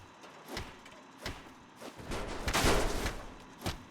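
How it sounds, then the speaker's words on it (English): Gunfire from weapons in Fallout New Vegas: several sharp shots spaced across the moment, with a denser burst of firing in the middle, fairly faint and mixed with game ambience. "Firing weapons."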